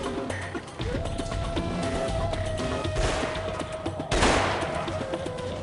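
Gunfire in the military shooter game Delta Force: Black Hawk Down, a steady rattle of shots under a background drone, with a louder burst near the end.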